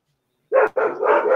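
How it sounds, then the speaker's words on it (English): Dogs barking at close range and loudly indoors: one sharp bark, a brief gap, then a longer run of barking. "there goes my dogs going crazy"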